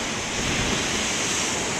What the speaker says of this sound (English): one wonders why the waves are not monsters here